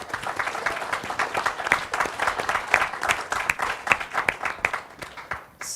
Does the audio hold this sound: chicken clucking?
no